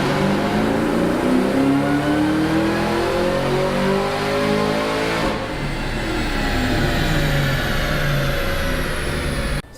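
A 2003 Mustang Cobra with a VMP 2.3 supercharger revving hard on a dyno, a loud continuous engine climbing steadily in pitch, then easing and pulling again, with no voices over it.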